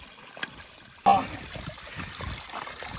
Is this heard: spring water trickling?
yes